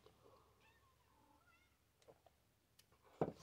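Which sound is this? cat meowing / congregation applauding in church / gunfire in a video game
cat meowing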